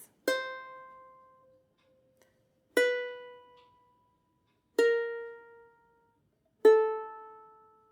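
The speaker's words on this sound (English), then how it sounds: "that's a little chromatic run there" Four single ukulele notes are plucked slowly in a descending chromatic walk-down from a song, each ringing out and fading before the next one sounds.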